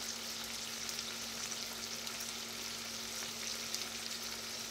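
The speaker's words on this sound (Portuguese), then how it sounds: "Agora eu vou deixar aqui refogando um pouquinho." Sliced cucumber sautés in a pan with soy sauce, giving a steady, close, continuous sizzle and light frying crackle with no voices.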